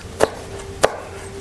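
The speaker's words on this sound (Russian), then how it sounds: "Один острый перец и один зубец чеснока. Сейчас я их хорошенько измельчу." A knife chops a hot chili pepper and a garlic clove on a board in two crisp, close knocks about half a second apart, with no talk over them.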